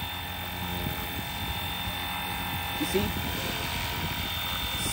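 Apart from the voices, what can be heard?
RC helicopter main rotor blade spinning, FlyWing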